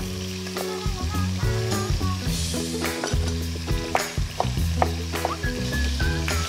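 Rabbit pieces and chopped bacon sizzle loudly as they brown in a pot, a steady close frying hiss broken by clinks and scrapes of stirring, with no voices.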